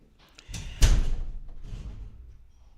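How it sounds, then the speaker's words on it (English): A door slams shut loudly, one sharp heavy thud close by, followed by a short fading rumble in an indoor room. "he did just close the door very loud"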